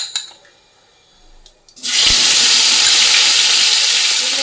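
A spice paste of tomato, ginger, green chilli, cumin, turmeric, salt and chilli powder hits hot oil in a kitchen. After a near-silent moment, a sudden loud, close hiss erupts and continues as a steady sizzle.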